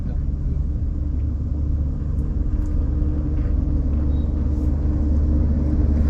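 A car drives steadily along a town road, with a continuous low engine and tyre rumble heard from inside the vehicle and no clear breaks.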